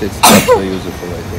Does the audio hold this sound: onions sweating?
no